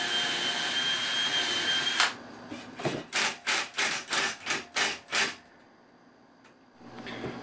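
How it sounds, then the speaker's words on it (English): A power drill whirs in a rapid series of short bursts, about eight pulses in quick succession, driving a screw into wood up close while building a screen printing press. "so I can pre-drill and screw it in."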